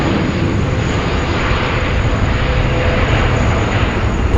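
An Airbus A330neo airliner from a New Caledonia carrier, registered in France, roars steadily at Sydney Airport, a loud continuous broadband jet engine rumble filling the scene with no voices.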